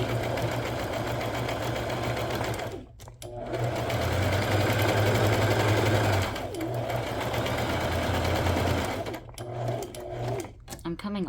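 A sewing machine runs in several steady bursts while stitching pink thread on a shabby chic coffee filter pocket, its close, humming motor stopping briefly between runs, with soft handling noises in the pauses.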